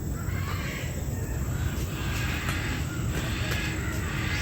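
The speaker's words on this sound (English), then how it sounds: "Some noisy parrots." Noisy parrots squawk in a bird enclosure, harsh raucous calls repeating over a steady, dense background hum.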